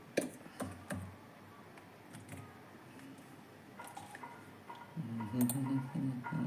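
Code is typed on a computer keyboard during a Python programming lesson, a steady run of soft clicking keystrokes close by, with a few louder key taps and faint background noise.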